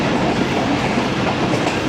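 A passenger express train runs at speed through countryside, a loud close steady rumble with rhythmic clickety-clack of wheels over rail joints and no talk.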